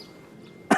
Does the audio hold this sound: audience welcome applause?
no